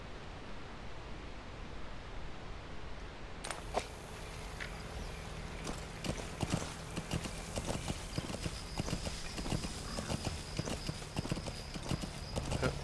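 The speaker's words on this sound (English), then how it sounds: "I certainly have trouble controlling the horse." Rhythmic clip-clop of horse hooves galloping steadily in the video game Metal Gear Solid V over a noisy background, continuing throughout at a quick, even pace.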